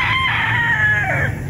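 A brood stag rooster crows once nearby, a loud drawn-out cock-a-doodle-doo that falls off at the end, over faint background noise.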